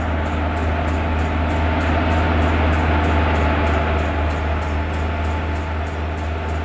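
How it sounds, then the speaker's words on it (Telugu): A train approaches in the Train Simulator Classic game: a steady low rumble and broad rolling noise with a faint regular clicking, loud and unbroken throughout with no speech. "ట్రైన్ ఎటు నుంచో సౌండ్ వచ్చింది భయ్యా."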